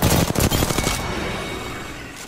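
Rapid automatic gunfire in the video game Apex Legends: a loud, dense burst of shots for about a second, then a fading echoing tail with no voices.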